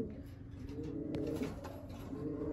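Pigeons coo softly in low, repeated throaty calls, faint and close, with no talk over them.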